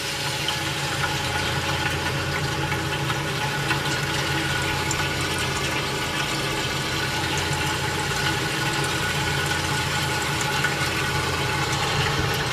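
An antique General Electric CJ-1-C16 refrigerator compressor runs after reassembly, a steady close mechanical hum with a low droning tone and a fine rattly texture that stays constant and unbroken throughout.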